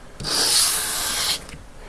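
A knife blade is stroked against an abrasive during convex sharpening, giving a single close, bright scraping rub that lasts just over a second and then stops.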